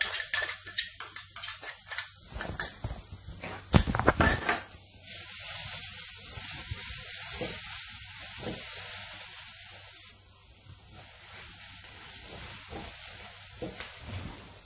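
Chopped garlic sizzles steadily in about a tablespoon of hot oil in a pan for a chayote, egg and fresh shrimp stir-fry, preceded by a few sharp utensil clinks and scrapes against the pan; close and clear, with no talking.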